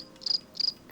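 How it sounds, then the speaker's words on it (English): Cricket sound effect giving two short, shrill chirps, each a quick trill, close and clear over a quiet background. "You hear that? Crickets."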